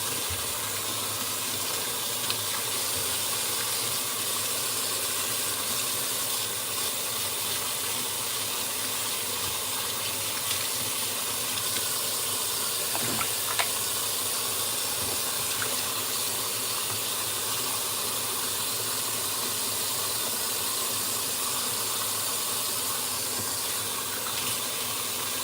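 A machine running its cleaning cycle hisses with steam in a steady, unbroken rush of watery noise that lasts the whole time, with no talking.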